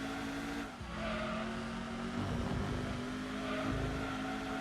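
A muscle car in the Gran Turismo 2 racing game drones with a steady, thin engine tone under continuous road and tyre noise, with slight shifts in pitch as it holds speed, with no talk.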